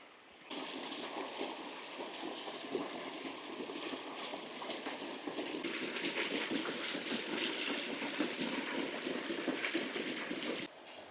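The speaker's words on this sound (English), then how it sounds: "the pleasant sound of the running water as I walk up through this beautiful gorge" Running water flows steadily through a rocky gorge, a continuous broad rushing and trickling wash that holds at a moderate level and swells slightly halfway through, with no voices.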